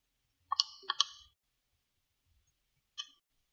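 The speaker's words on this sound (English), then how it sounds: "so when we type in the calculator," Calculator keys are pressed in a quick cluster of soft, close clicks, followed by a pause and one more click, in an otherwise silent room.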